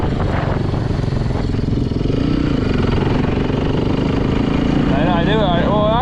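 A Yamaha YZ450 dirt bike engine runs steadily at low speed, a loud, close, buzzy drone with wind noise over it and a rider's voice talking on top.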